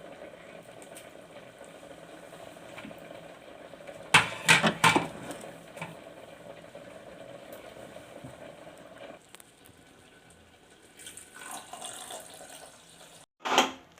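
Water goes into a pot of drumstick leaf rasam already simmering with tamarind water, making a few quick splashy bursts among quiet bubbling and kitchen noise, with another brief splash near the end.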